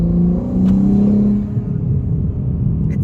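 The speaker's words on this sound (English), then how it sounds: "The turbos are much louder." Turbocharged engine of a JB4-tuned 2023 BMW M4 G82 accelerating from inside the cabin, a loud droning rumble with a rising tone that eases off, then a steadier lower hum.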